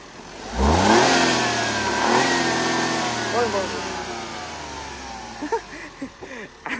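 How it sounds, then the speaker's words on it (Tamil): A Maruti Swift's engine revs up sharply, then rises again in a couple of bursts before settling, close and loud, with brief voices near the end. "இன்ஜின் ரைஸ் கொடுத்தா சவுண்ட் எப்படி இருக்குன்னு கேட்போம்"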